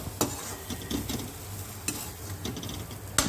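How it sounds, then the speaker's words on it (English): Potatoes fry South Indian style with curry leaves in a pan, giving a steady sizzle broken by scraping stirs and a few sharp clinks of the utensil against the pan. "So we'll just mix some more curry leaves and mix it well."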